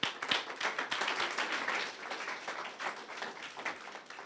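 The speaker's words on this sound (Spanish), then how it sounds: "Dale un aplauso a Jesús." A church congregation applauds together in a dense, lively burst of clapping that carries on for several seconds at an even, fairly loud level.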